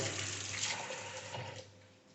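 Chopped chicken cubes are rinsed under running water from a tap, a short, close, steady gush that fades slightly toward the end, with no voices.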